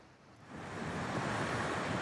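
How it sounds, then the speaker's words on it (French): Cyclonic ocean swell, waves up to four metres breaking on the Brittany coast at Lampaul, builds into a loud, steady roaring surf wash mixed with wind noise, with no voices. "Ces vagues jusqu'à 4 mètres ici ce matin à Lampol"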